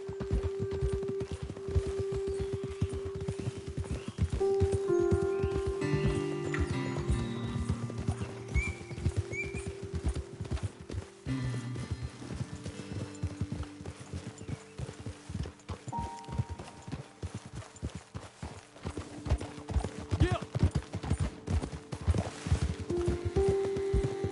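Hooves of horses in Red Dead Redemption 2 clip-clop steadily at a walking pace, with an occasional horse whinny, close by and without talk.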